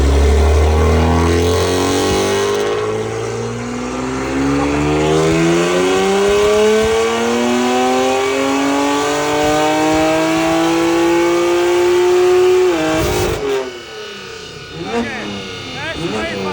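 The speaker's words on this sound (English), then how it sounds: "let's see how the car sounds with the valves open" A BMW M3 F80 with its S55 engine and the exhaust valves open revs loudly and close, the pitch climbing steadily for several seconds before dropping off, then a few shorter throttle blips.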